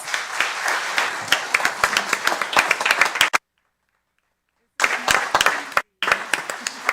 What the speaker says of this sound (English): Can we give all of our candidates a round of applause?